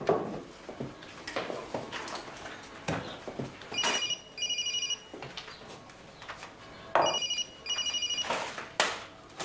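A telephone rings in paired electronic bursts, twice in succession, left unanswered in a quiet room among scattered knocks and movement noises.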